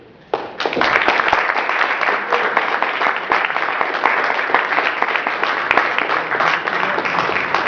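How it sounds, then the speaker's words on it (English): Sustained audience applause at a Black history event fills the room right after a historian finishes speaking, starting sharply and holding as a dense, steady wash of many hands clapping, with no talking. "Give another big round of applause for that great historian, Mr. Lawrence Shepherd."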